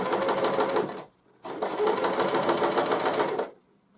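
A sewing machine hems shirt sleeves, stitching in two loud bursts of rapid rattling, about a second and then two seconds long, separated by a short pause and ending abruptly.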